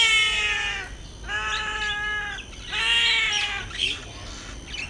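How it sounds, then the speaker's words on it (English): Birds at a Singapore bird park give drawn-out, cat-like harmonic calls in three separate bursts about a second apart, close and clear, followed by a few shorter squawks. "Birds sounding like cats."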